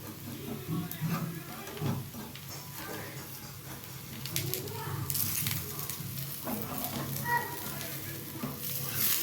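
A rava roti with dill leaves cooks on a hot pan with a steady, close sizzle, and scraping and handling noises rise and fall through it.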